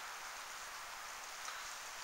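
Light rain at the onset of an April ice storm hisses as a faint, even patter, steady from start to finish with no other sounds.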